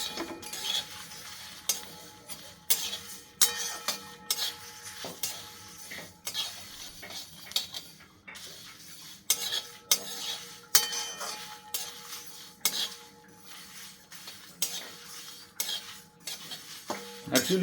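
Spices for an amla pickle are stirred in a hot wok, a metal utensil scraping and clinking against the pan in irregular close strokes over a faint sizzle, with no voices.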